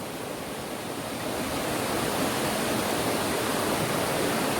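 A cave waterfall at Kshetrapalan Kund near Sreekandapuram, Kannur, gives off a continuous roaring rush of water that swells slightly early on, then holds steady and close without voices.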